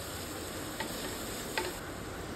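Onions browned to a reddish tint sautéing in a pan with a pinch of asafoetida, a steady hiss with two faint clicks of a spoon, no voices.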